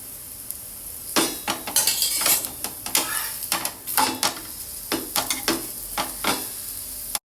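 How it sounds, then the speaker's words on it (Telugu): A pearl millet flatbread roasting on a hot pan sizzles under a string of quick scraping and clinking strokes from a spatula, close and fairly loud, with no talking. "బాగా ఎర్రగా కాల్చుకోవాలి"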